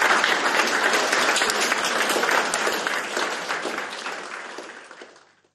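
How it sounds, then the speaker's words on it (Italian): Applause from an audience fills the space evenly with dense, close clapping, holding strong for several seconds before gradually thinning and fading to silence. "Un applauso!"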